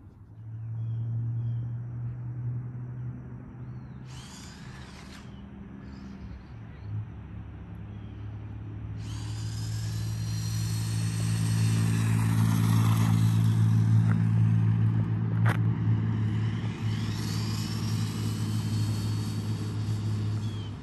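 Traxxas RC car driving off-road, a steady electric motor whine that builds and holds over about twenty seconds, with scattered crunching and rattling from the terrain and no talk.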